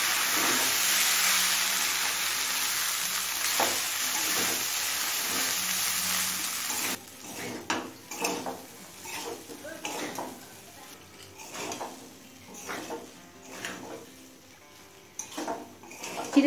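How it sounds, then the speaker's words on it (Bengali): Soaked flattened rice being stirred into chicken in a pan, first a steady hiss and then scraping, clinking strokes of a spoon against the pan, close up and uneven in rhythm. "এবার চিড়েটা সব কিছুর সাথে নেড়ে চেড়ে মিশিয়ে নেব।"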